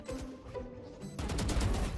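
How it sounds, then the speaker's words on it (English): Gunfire in the video game Valorant: a quick burst of rapid shots in the second half, sharp and fairly close, after a quieter stretch of faint game sounds with no talk. "Where did they shoot from?"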